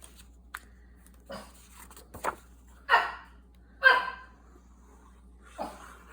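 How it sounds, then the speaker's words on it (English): A pet dog barks indoors at home, a few spaced single barks of moderate loudness separated by quiet gaps, with no speech. "He's barking because my husband left and went to the grocery store."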